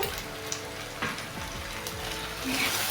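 Papaya chicken with Kashmiri chili powder and salt frying in a pan, with a steady broadband sizzle and a few soft stirring scrapes, close and continuous throughout.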